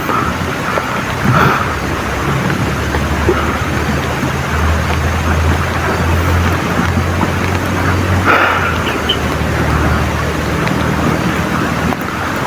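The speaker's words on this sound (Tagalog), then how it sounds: "Yan tol, ulan." Steady broadband hiss of rain falls throughout, with a low engine-like rumble underneath and a couple of brief louder swells.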